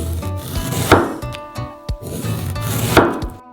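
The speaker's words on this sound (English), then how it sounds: "Cut it into thin but wide slices." A knife cuts a pear into thin, wide slices on a wooden board, with crisp chopping knocks and scraping strokes in an uneven rhythm, close and clear with no talk.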